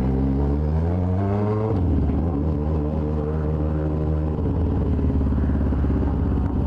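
A motorcycle engine idles and revs nearby, its pitch stepping up and then settling, a steady rumbling drone with no talking.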